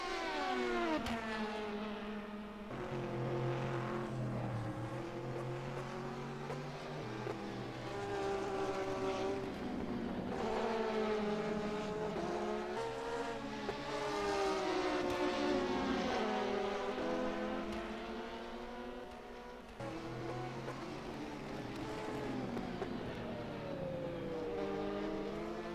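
Race cars at Spa in a racing video game scream along continuously, engines rising and falling in pitch as they run down toward Raidillon, with several cars overlapping in one steady, moderately loud drone.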